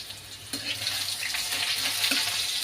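Onion frying in a pan with whole garam masala: a steady soft sizzle with a few light clinks and stirring scrapes, close and fairly quiet, with no talk.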